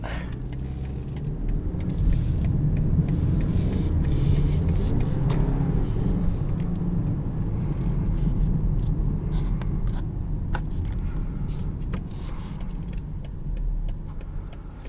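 A 2022 BMW X4 30i driving through night traffic, a steady low road and engine rumble from inside the cabin that holds constant throughout with faint interior ticks and no talking.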